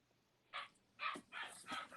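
A puppy outdoors gives four short barks and yips, faint and somewhat distant, spaced about half a second apart against a quiet background.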